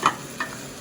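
A spoon stirs frying ingredients for Kashmiri pulao, with sugar added, in a pan: two quick soft scrapes over a faint, quiet sizzle.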